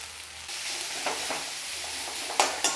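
Chopped tomatoes hit a pan of onions fried light brown and sizzle steadily while a spoon stirs through them, with a few sharper scraping clicks near the end, close and alone with no talking.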